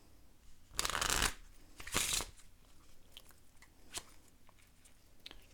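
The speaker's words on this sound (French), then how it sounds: "Je mélange et je le coupe normalement" A deck of playing cards being shuffled in two quick riffling bursts, followed by a few soft card taps and handling sounds, close and with no talk.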